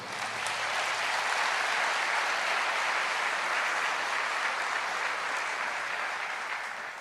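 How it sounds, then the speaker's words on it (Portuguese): A church congregation gives sustained, dense applause at steady loudness throughout, a full room of clapping that tapers slightly only at the very end. "Você pode aplaudir o Senhor?"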